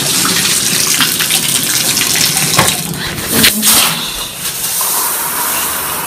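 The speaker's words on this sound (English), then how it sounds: "Oh yeah, it's time to get in the shower." Water from a shower runs in a loud, steady rushing stream with no pauses, filling the whole moment without any voices.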